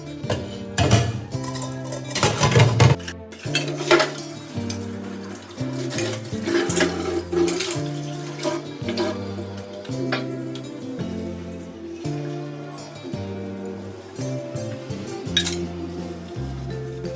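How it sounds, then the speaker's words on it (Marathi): Dishes, pots and pans clink and clatter under running tap water as they are washed in a home kitchen, with the sharpest knocks early on and steady background music playing throughout. "तर चला फटाफट भांडे धुवून घेऊया, कारण खूपच उशीर झालेला आहे."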